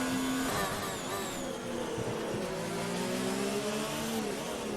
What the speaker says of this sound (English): doing high rev downshifts, using a lot of engine braking there